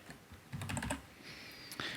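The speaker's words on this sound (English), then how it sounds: "I'm typing in the points just for the heck of it" Quiet, close typing on a computer keyboard: a brief flurry of quick key clicks, then a few scattered taps, in an otherwise calm room with no talking.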